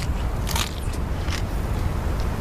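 Crunchy bites into a patty of locusts, beetles, praying mantis and moth in the Sahara Desert: a few short crackling crunches, close and fairly loud over a steady low rumble of background noise.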